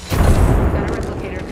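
A grenade goes off in a Wraith shooter video game, a loud low boom rolling out at the start and fading into ongoing battle rumble, with voices talking over it.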